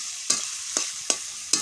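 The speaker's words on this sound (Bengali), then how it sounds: "এখন আমি কড়াইতে তেল দিয়ে এখানে পেঁয়াজ মরিচগুলো ভালো মতন ভেজে নিব।" Chopped onions and chillies fry in hot oil in a wok with a steady sizzle, broken by four evenly spaced scraping strokes of a spatula, close and clear with no voices.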